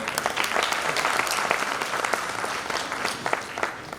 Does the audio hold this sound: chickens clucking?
no